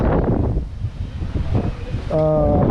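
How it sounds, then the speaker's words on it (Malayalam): Strong wind roars and buffets the microphone in a constant low rumble during a Bullet motorcycle ride in Wayanad, Kerala, with a brief voice rising near the end. "ഭയങ്കര കാറ്റും"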